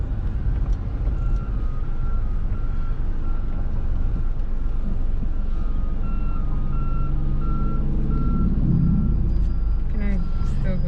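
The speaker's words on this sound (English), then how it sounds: "The garbage truck." A garbage truck reverses on a city street, its backup alarm beeping in a steady, evenly spaced series over the loud rumble of the engine and nearby traffic, with people talking in a car close by.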